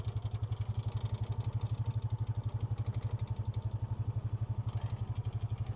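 A Honda utility vehicle engine runs in four-wheel drive and first gear, pulling on a rope tied to a storm-damaged tree limb, with a steady, loud, rapid thumping low pulse throughout and light clatter on top.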